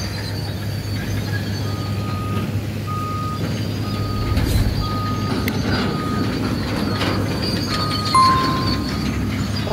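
A Volkswagen Constellation dump truck works at a landfill, its reversing alarm beeping in regular pulses over a loud, steady diesel engine rumble, close by and continuous.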